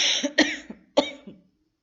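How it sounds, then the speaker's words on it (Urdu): A lecturer with a dry throat gives a quick burst of close, loud coughs, three or four rough hacks within about a second, then quiet. "یہ میں بول کے میرا گلا خشک ہو جاتا ہے، اس وجہ سے آ گئی کھانسی مجھے"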